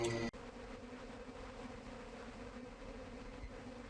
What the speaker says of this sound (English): we hear things. We hear swarming and buzzing.